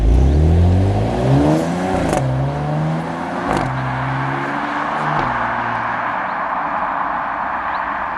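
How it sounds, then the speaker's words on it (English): A 2022 Porsche Macan S SUV accelerates hard on country lanes, its engine climbing through several gears with loud, rising revs and brief dips at each shift, then settling into a steady driving drone. "It is a Porsche SUV, so you do expect it to make some noise."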